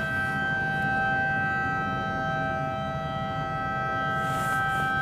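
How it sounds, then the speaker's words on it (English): A demolition warning siren sounds continuously at Richborough Power Station, a loud steady tone holding for the full stretch with no voices over it. "Siren off."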